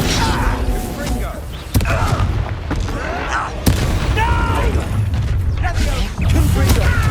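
Confringo fire-spell blasts in Hogwarts Legacy: sharp booming impacts land at intervals amid swirling magic effects, under a voice that talks steadily throughout.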